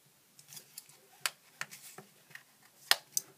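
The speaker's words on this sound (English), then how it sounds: "Let's pop the lid and take a wee look inside." Plastic clicks and snaps come as the lid of a budget USB power bank is pried off, a string of sharp, close, fairly quiet cracks at irregular intervals.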